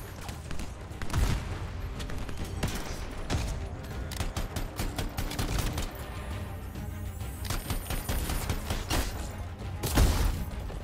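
Explosions and rapid gunfire in the video game Anthem form a dense, continuous barrage of sharp bursts and heavy booms, loud and close throughout, with no speech.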